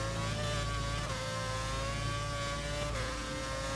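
A Formula 1 car accelerates on a circuit, a loud, high-pitched engine whine climbing through the revs, dipping briefly at two gear changes, then rising again, heard continuously up close.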